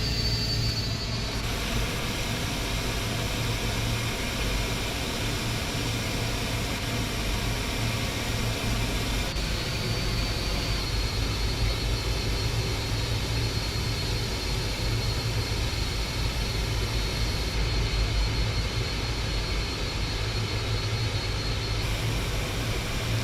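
Jet engines of a Lockheed L-1011 airliner on a runway in a flight simulator game make a steady, broad, continuous roar that holds at an even level throughout, with no talking.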